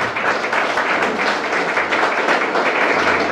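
Sustained applause for a recitation of a Rabindranath Tagore poem at a poetry reading, a dense steady wash of many hands clapping close by for several seconds with no voices.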